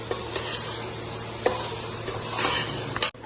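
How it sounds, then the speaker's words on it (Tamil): A spoon stirs thalapakatti biryani mixture in a pot over the heat, with soft sizzling beneath and scattered scraping knocks against the metal, close and without talking. "இதோட மிக்ஸ் பண்ணி அப்படியே கிண்டுறோம்."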